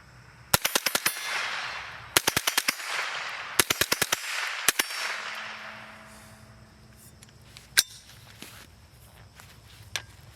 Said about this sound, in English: So as I'm shooting, and I've got 4 body-sized targets